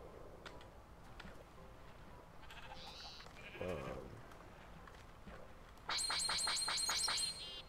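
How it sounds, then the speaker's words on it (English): A video-game sheep bleats once mid-clip, followed by a rapid, repeating electronic ticking or chiming pattern near the end, with faint game ambience throughout. "I thought I could shear you, sheep."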